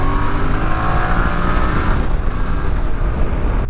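A motorcycle on a long road trip revs and accelerates to overtake another vehicle, a loud close engine roar with a rising tone and steady wind and road noise, no talk heard.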